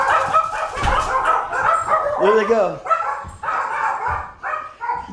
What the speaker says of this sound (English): I'm gonna let my dogs in. They're very angry today